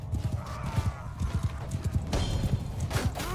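A horse gallops in the video game Mount & Blade II: Bannerlord, its hooves pounding in a fast, steady rhythm with brief neighs and battle noise mixed in.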